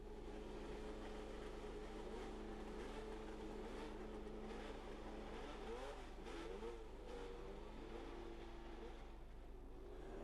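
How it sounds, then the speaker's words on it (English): Formula 1 racing cars of 1972 heading out to practice at a fast Grand Prix circuit, engines droning and rising in pitch as they accelerate, a steady loud mechanical roar with shifting tones throughout. "As the cars headed out to practice, working up to maximum speed on this, one of the fastest Grand Prix circuits"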